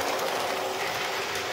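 An 027 toy train runs on a Fastrack figure-eight layout with a steady, close, whirring rattle of wheels and motor on the plastic track, continuous and even.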